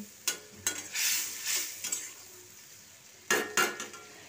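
Turmeric-laced spice masala is stir-fried for a rui fish curry, with several sharp spatula scrapes and clanks against the pan over a soft sizzle, close and without talk.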